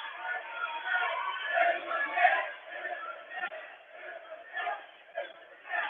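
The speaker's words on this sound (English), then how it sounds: "that little chant right there for in the net" A student section cheers and chants through a high school volleyball match between West Delaware and Western Dubuque, a muffled, steady crowd roar that swells and dips at mid-distance with no clear individual voices.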